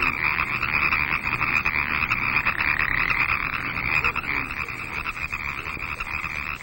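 Bullfrog croaking at a pond, a dense, continuous chorus of frog calls that stays loud and steady throughout with no voices.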